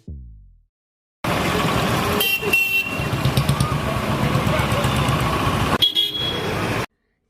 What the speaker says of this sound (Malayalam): കാതടുപ്പിക്കുന്ന ശബ്ദത്തിൽ ഹോൺ മുഴക്കി വാഹനങ്ങൾ